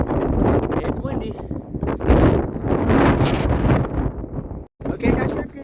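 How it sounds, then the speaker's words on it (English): Heavy wind on a high mountain trail on San Jacinto buffets the microphone in loud, continuous gusts, with a person talking over the roar. "It is very, very windy."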